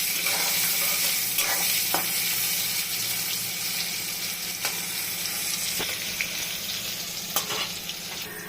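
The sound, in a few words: eggplant frying in oil with salt and turmeric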